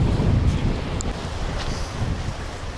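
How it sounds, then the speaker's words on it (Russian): Wind gusts by the seashore, roaring and buffeting the microphone in a continuous low rush that swells and eases slightly. "Ни на море ветра нет, а здесь ветер."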